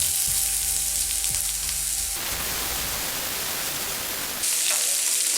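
Sliced onion tipped into a hot pan with green chillies, curry leaves and coconut pieces, a dense hiss of sizzling that swells loudly, holds for a couple of seconds, then settles back to steady frying.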